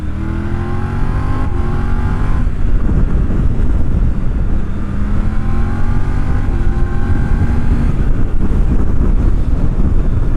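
Triumph Tiger 900 triple-cylinder motorcycle engine, a 2020 model, heard onboard while riding, with loud rising and falling engine pitch sweeps as it accelerates through gears over heavy wind rush.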